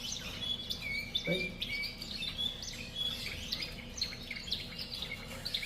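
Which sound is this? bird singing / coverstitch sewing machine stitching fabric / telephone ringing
bird singing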